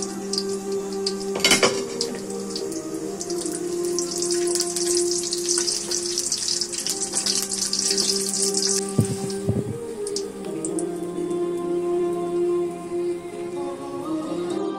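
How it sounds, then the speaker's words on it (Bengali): Seven or eight green chilies frying in oil in a pan, a continuous bright sizzle with a few sharp clinks of a utensil against the pan, no speech. "এগুলো তেলে ঢেলে দেবার আগে 7-8টি কাঁচামরিচ ভেজে নিলাম।"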